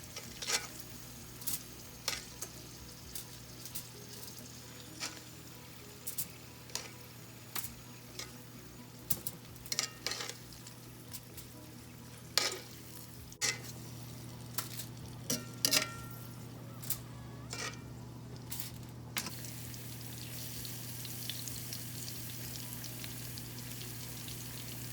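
Potatoes frying in a skillet for a one-pot chicken and potato dish, a soft steady sizzle with regular light taps and scrapes of a utensil, under a low hum.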